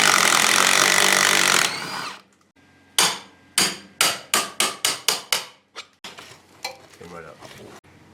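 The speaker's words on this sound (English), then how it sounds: "Now with it, we're taking the transmission mount off." Hand tools working on a car's transmission mount during an LS engine swap: a steady loud rush gives way to a quick series of sharp metallic strikes and clanks, close and mostly alone.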